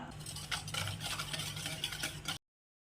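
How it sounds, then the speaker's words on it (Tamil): Soft, continuous scraping and swishing of stirring egg pakoda batter in a bowl, quick and close, stopping abruptly after a couple of seconds. "இது நல்லா கலந்து விட்டுடலாம்"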